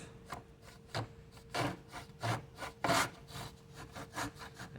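A hand saw cuts wood in a miter box: steady back-and-forth rasping strokes, about one per second, close and moderately loud, with no voices.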